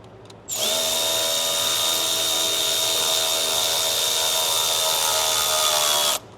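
Close-up power tool whirring steadily for about six seconds while tightening a PPE intake clamp on a 2020-plus 6.7 Ford Powerstroke diesel turbo. It gives a loud, high-pitched motor whine that starts and stops abruptly.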